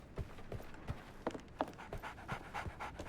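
In the Sherlock Holmes Awakened video game, a dog pants quietly in quick, steady breaths, overlaid with soft thumping footfalls and small shuffles at low level.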